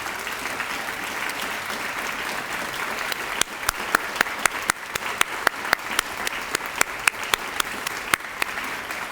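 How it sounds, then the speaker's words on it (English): An audience applauds continuously at Caltech's announcement of its ninth president, a steady wash of clapping with sharp individual claps standing out, building slightly partway through. "let's give them a round of applause for all their work"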